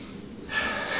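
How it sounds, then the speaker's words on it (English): A quick nasal sniff of the Abercrombie & Fitch fragrance Colden, a short intake of breath that swells partway through and holds steady, close and moderately loud with no talking. "So let's sniff her out."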